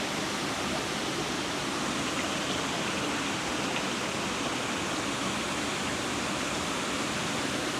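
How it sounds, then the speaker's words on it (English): Water pouring over Leichhardt Falls, a waterfall among big cliffs with rock pockets, forming a steady, loud, unbroken roar of rushing water heard alone throughout. "A view of the water going down over the falls,"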